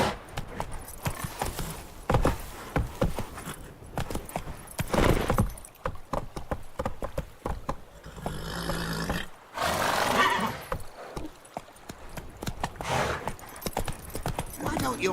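A horse gallops in The Witcher 3: Wild Hunt, rhythmic hoofbeats at a steady pace close by, mixed with game noises, a brief roar and occasional character voices.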